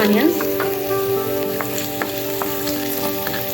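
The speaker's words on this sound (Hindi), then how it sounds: "पहले चने को भून लेंगे हम ऑयल में" Chickpeas roasting in hot oil give a loud, steady sizzle and crackle that runs unbroken, with a few soft stirring clicks.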